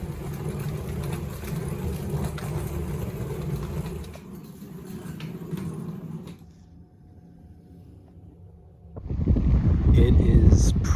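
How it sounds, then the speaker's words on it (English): Wind gusts batter the microphone on an empty, icy winter beach, roaring loudly at first, easing to a quieter lull, then surging again in a strong buffeting blast. "It is pretty cold, but it's also windy as hell out here."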